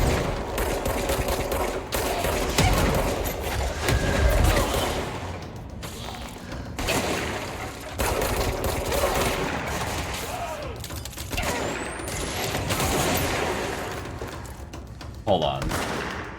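Gunfire and explosives in the video game Control, dense continuous shooting and thumping blasts running throughout at steady high volume, with a voice faintly under the din.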